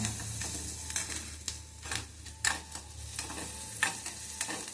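Onions fry lightly in a pan for noodles, a steady low sizzle broken by repeated scraping stirs of a spoon against the pan, close and fairly quiet, with no talking.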